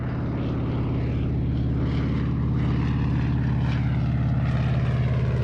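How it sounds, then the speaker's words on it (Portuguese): A Canadair water bomber over the dry Mediterranean coast drones past with a loud, steady propeller roar and a throbbing pulse, close and sustained, with no voices. "Estes são Canadair. Eles recolhem água do mar sem nunca aterrissar."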